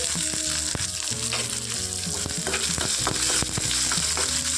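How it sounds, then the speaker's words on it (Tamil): Chopped onion fries in a tempering of mustard seeds, green chilli and curry leaves for a bitter gourd dish: a steady, close sizzle broken by repeated scraping and clattering stirs, with no talk. "கட் பண்ணி வச்சிருந்த வெங்காயத்தையும் போட்டுக்கலாம்"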